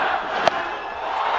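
Cricket crowd roaring and cheering after a boundary at a one-day international in Cardiff, a dense, steady wall of voices filling the clip with a brief sharper shout near the start.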